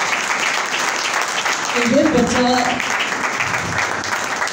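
Church Christmas party audience clapping for a child pianist, a continuous wash of applause under someone speaking briefly in the middle.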